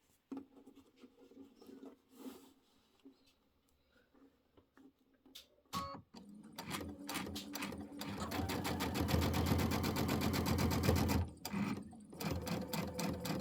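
A sewing machine stitches pillow top pieces together for a snowy quilted pillow, starting after a few quiet handling noises and then running in a long steady burst of rapid stitching, briefly pausing before resuming close and loud.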